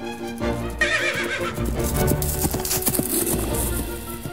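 In an animated film, a horse whinnies loudly up close while hooves clip-clop in a quick rhythm beneath, with music playing underneath.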